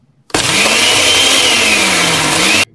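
A blender motor whirs loudly and steadily for about two seconds, starting and stopping abruptly.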